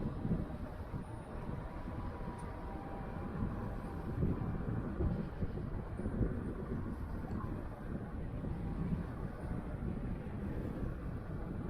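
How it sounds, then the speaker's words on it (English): Steady wind buffeting a microphone while running along a seawall in Vancouver's Gastown area, a continuous low rumbling roar that holds throughout with no talk. "I can feel the wind."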